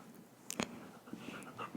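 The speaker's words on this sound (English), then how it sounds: "This is our dog, Desmond." A dog pants softly nearby in a quiet room, with a brief sharp whimper-like yip early on and light breathing sounds continuing, faint and close.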